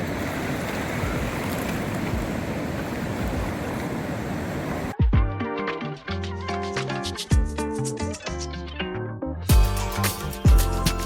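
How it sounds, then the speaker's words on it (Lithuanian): Ocean surf washes onto a New Zealand beach as a steady broadband rush for about five seconds, then music abruptly takes over for the rest. "Bet jau kelios bangos užėjo."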